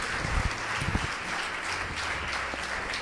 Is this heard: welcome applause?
yes